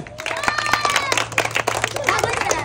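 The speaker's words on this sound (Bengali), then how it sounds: "হ্যাঁ, সবাই জোরে একটা হাততালি।" Children clapping together for a prize winner at a game event, a dense patter of claps that fills the short stretch, with crowd noise and scattered voices underneath.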